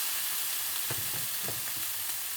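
Lean 5% beef mince browning in a large frying pan sprayed with low-calorie oil over medium heat, a steady close sizzle with a few soft thuds of the meat being broken up; no talking.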